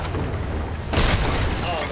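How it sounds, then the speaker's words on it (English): Cannon fire from an enemy ship in the pirate game Sea of Thieves lands as a sudden loud broadband boom about a second in, followed by rumbling debris and splashing noise, with people talking over it. "Yeah, they're shooting cannons at us."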